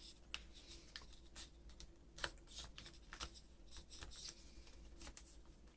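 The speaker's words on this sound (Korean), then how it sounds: "이 선과 이 선이 만나는 이 부분을 중심으로 살짝 비스듬하게 접어줍니다" Sheet of origami paper being folded into a walrus, a faint, close, irregular run of light crinkles, creases and soft taps against a quiet background, with no talking.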